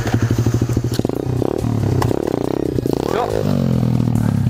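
A motorcycle engine pulses unevenly near the rider as the clutch is let out during a ride, then climbs in pitch and settles into a steady drone, with a few clunks and rattles.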